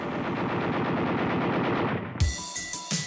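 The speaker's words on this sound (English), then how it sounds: "The Japanese Type 96 light machine gun was also derived from the ZB design." A Japanese Type 96 light machine gun fires a continuous, loud, rapid burst lasting about two seconds, followed by a few sharp separate reports and fading echoes.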